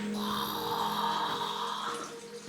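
Water drips and trickles steadily inside a cool cave in Fukushima, a soft continuous wet patter with faint tonal ringing, fairly close and without talk.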